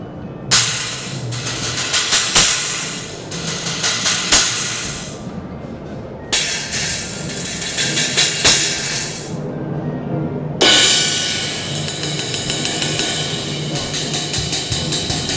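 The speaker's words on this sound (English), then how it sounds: "a 10-inch FX Oriental China trash. And I also threw one on a crash ride" A 10-inch Zildjian FX Oriental China trash and a crash ride cymbal struck and left to ring in three separate bursts, each a bright, sizzling wash that slowly thins out.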